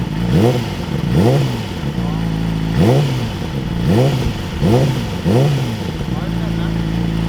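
A Yamaha YZF-R6 motorcycle with a loud, deep aftermarket Tiger exhaust revs repeatedly in short bursts, about six sharp throttle blips in a steady rhythm, close by.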